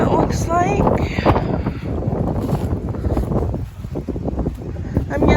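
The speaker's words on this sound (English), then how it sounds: "It's very windy" Strong wind buffets the microphone outdoors on a farm, gusty roaring rumble throughout with a person talking over it.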